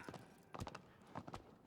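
Horse hooves clip-clopping in the video game Shadow of the Colossus, appearing as a few short bursts of steps spread across the moment, fairly soft and without talk.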